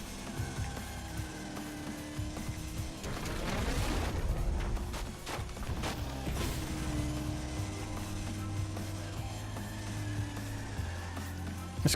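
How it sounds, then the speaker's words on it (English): A thin, toy-like car engine in the racing game Split/Second during a time trial, its whiny pitch rising and falling with gear changes, and a dense burst of booming crashes in the middle. "This car sounds like a toy."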